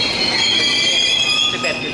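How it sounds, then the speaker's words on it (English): A sleeper train pulls into a station platform, its wheels squealing with high metallic tones over a steady rumble of rolling carriages, loud and close throughout. "here's the sleeper train's arrived"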